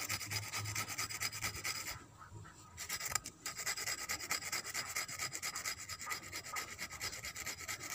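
A hand file rasps steadily against a metal shoemaker's awl, sharpening it to a point, with continuous rubbing strokes that pause briefly and then resume, close and moderately loud.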